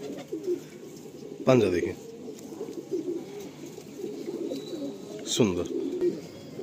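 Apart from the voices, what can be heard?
giribaz pigeons cooing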